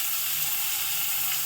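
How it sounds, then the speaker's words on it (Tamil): Hot oil sizzles steadily in a pan while rasam is tempered with garlic, dried red chili and chopped tomato, a loud, close, continuous hiss with no voices. "இப்போ ரசத்தை தாளிக்க போகிறீங்க."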